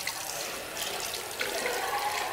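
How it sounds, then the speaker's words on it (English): Hands are washed under an automatic sink tap in a Japanese restroom. The running water makes a steady, close hiss with light splashing throughout. "now I have to wash my hands"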